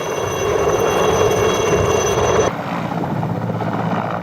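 A loud Mi-8 or Mi-17 medium helicopter drones steadily, its engine and rotor whine continuous throughout, dropping slightly in level partway through.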